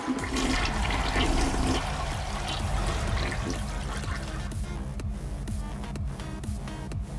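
A toilet flushes with a loud, rushing gush of water that swirls and gurgles, then drains down into trickling refill, heard alone throughout.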